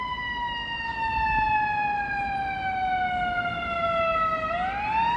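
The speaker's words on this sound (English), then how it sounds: "Let's see if we get this siren coming by." An ambulance siren on a Chicago street, heard outdoors as a steady wailing tone that slowly drops in pitch and then rises again as the vehicle passes, loud and continuous over traffic noise, with no talking.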